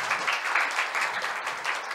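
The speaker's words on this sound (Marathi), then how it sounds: "खरंच तिच्यासाठी म्हणजे टाळ्यांचा कडकडाटच व्हायला पाहिजे" An audience applauds child performers after a short children's play, the clapping steady and moderately loud, a dense patter of many hands with no speech over it.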